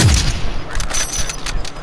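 Gunfire crackles in Call of Duty Warzone, a burst of close, sharp shots followed by several quicker rattling rounds over about two seconds, loud and without talk.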